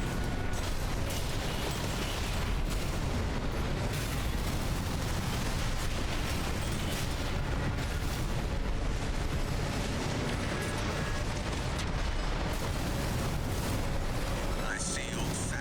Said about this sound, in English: We're just sending missiles everywhere